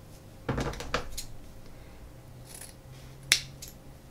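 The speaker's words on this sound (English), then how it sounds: "taking your ribbon and folding it in half, and then trim from the center down" Scissors trim ribbon to cut dovetail tails for a bow, giving a few quiet, close snips, two near each other early and one sharper cut later, with little else in between.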